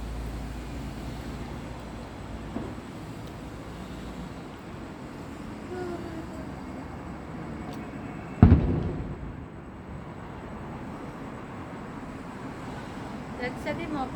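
Fireworks go off during a night celebration, a single heavy boom midway through with a rumbling tail, over steady background noise while people chat nearby.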